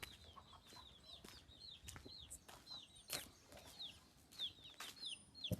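Village chickens clucking and chirping in short repeated bursts around a quiet rural home, faint and somewhat distant against a soft outdoor background.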